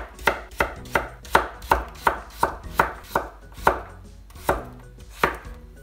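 A knife dices carrots on a cutting board while Japanese omurice is being prepared, giving a dozen close, crisp chops in a steady rhythm with brief pauses between strokes and no voices.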